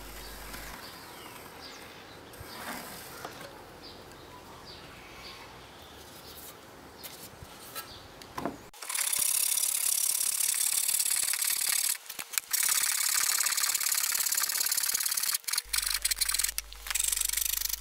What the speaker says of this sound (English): so we'll need to saw a little bit off it.